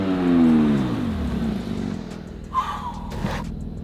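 A Porsche GT4RS fitted with a Fabspeed exhaust revs loudly up close, its engine note rising then falling away, followed by a brief sharper blip and quieter rumble.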